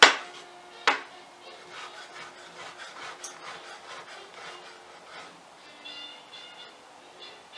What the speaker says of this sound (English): music makes chopping vegetables feel so dramatic